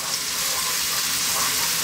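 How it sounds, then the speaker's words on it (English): Onion and garlic fry in sunflower oil in a pan over medium heat, giving a steady, even sizzle with a soft hiss throughout and no voices. "throw this around in the pan."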